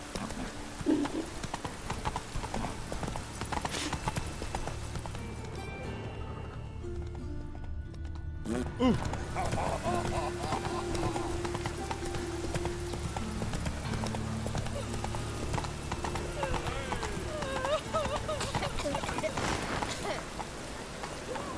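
Hoofbeats from a galloping horse in the Witcher 3 video game thud in a steady clip-clop over a continuous game soundscape, with a brief lull midway and a voice speaking over part of it.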